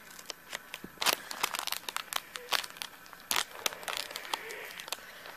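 Plastic crinkles and crackles up close in quick, irregular bursts, with a few sharper rips as a TeenyMates NBA figure blind bag is torn open.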